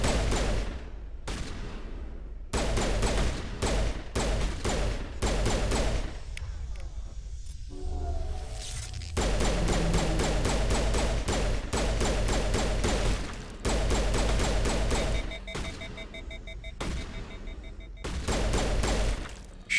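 Heavy bursts of Mass Effect gunfire, booming in repeated volleys with short gaps and one quieter stretch midway, a steady barrage with a deep low-end thump.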